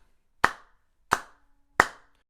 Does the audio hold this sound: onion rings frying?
no